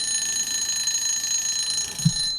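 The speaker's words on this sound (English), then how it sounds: "That's a Pomodoro timer. I had a timer set." A Pomodoro timer alarm rings with steady high electronic tones held through the whole stretch, fairly quiet, joined by one brief low thump near the end.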